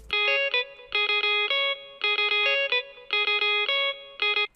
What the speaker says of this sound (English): the second one is a guitar loop from the SAS pack from Splice